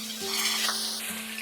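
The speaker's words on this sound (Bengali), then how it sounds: "আলু ভেজে নেওয়ার পর এবার আমি লম্বা লম্বা করে কেটে রাখা পটলগুলোকেও ভেজে নেব।" Long strips of pointed gourd (potol) frying in oil in a pan, a continuous bright sizzle with a steady low hum underneath.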